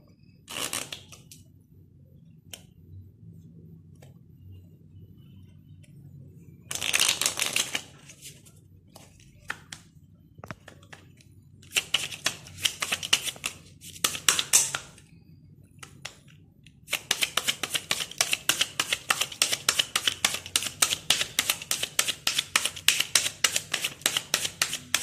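A deck of playing cards being cut and set by hand for a card trick, with bursts of crisp riffling and flicking that grow denser toward the end, close and fairly loud, no talking.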